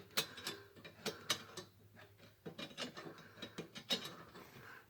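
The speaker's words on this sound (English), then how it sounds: "Once it's started, using the screwdriver, you push it out." A screwdriver pushes a part out of a drop system's spring and kicker plate assembly, heard as a series of faint, irregular metallic clicks and ratcheting taps close by.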